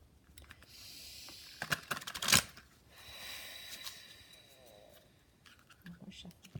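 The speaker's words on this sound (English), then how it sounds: "One more shuffle." Quick bursts of tarot cards being riffled and shuffled close by, a loud flurry in the middle, with soft rustling and faint background noise around it.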